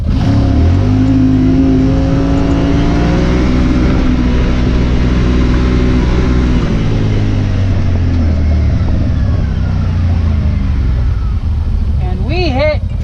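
A Yamaha Wolverine X4 UTV in 4-wheel drive launches at full throttle, its engine note rising steadily as it accelerates hard, loud and close, with voices faintly under it and a whistling pitch sweep near the end.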